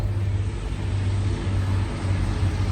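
A train passes on a railway line in open countryside near Mam Tor in the Peak District, giving a steady, heavy low rumble with constant broadband noise and no voices.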